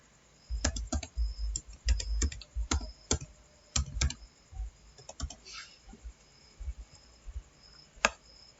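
Fingers tap a computer keyboard while a name is entered into a cloud setup form, giving irregular clusters of close, crisp key clicks with short pauses between bursts and no voice over them.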